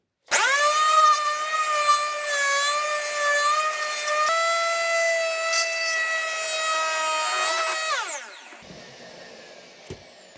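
Bosch PEX 300 AE random orbital sander running on wood with 120-grit paper, a loud steady whine with shifting tones for about eight seconds before spinning down to quiet.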